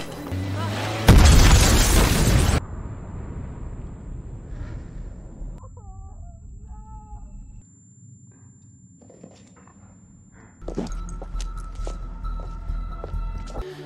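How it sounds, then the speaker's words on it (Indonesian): A bomb going off in a dramatic film scene: one loud, sharp burst of noise that decays over about a second and a half, followed by quieter ambient sounds and later a louder rumbling stretch. "bom sudah meledak dan kepanikan terjadi"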